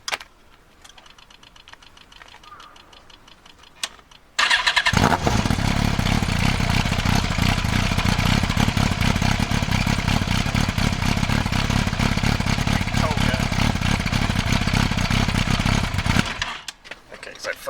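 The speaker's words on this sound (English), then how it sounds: "then I'll start it up with no silencer. It's ridiculously loud" A motorcycle engine with its silencer removed fires up after a few seconds of quiet handling noise, then runs very loud and raw for about twelve seconds before cutting off.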